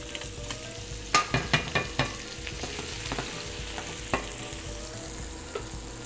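Squid tentacles frying with garlic in a pan for an Italian stuffed squid dish, with a steady close sizzle broken by a few sharp stirring clatters, no talk.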